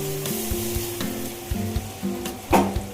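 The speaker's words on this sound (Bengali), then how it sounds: "এবার এর মধ্যে আমি অ্যাড করব আদা, রসুন আর শুকনো লঙ্কা বাটা।" Onion frying in a pan with ginger, garlic and dried chilli paste being added, a loud close sizzle broken by scraping stirs and a sharp clatter near the end, with low humming tones underneath.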